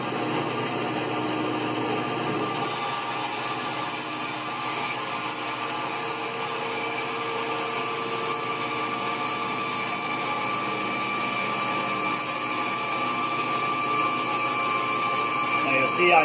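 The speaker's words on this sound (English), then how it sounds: "when you turn it on, allow the machine to get up to full speed before you begin your cut" A band saw runs at full speed with a steady, dense mechanical whine and hum that holds unbroken and close throughout.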